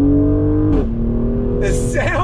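A 2020 Mercedes-AMG GLC 43 all-wheel-drive SUV pulls hard on throttle, a loud, steady engine drone rising in pitch with a brief shift-like dip, close and continuous through the clip.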